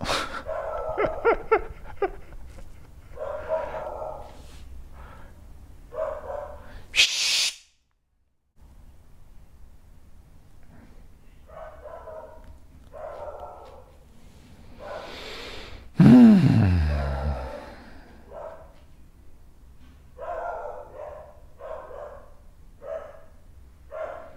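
A female dog barks, yips and whimpers close by indoors in repeated short bursts, with breathing sounds, a brief pause and a loud whine partway through.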